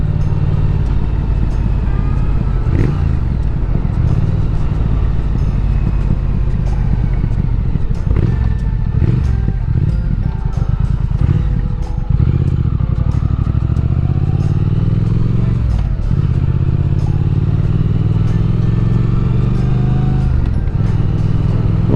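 A motorcycle ridden at slow speed on a country road, its engine running steadily with the clutch feathered to smooth out gear changes, a loud continuous drone with wind rumble and occasional clatter throughout.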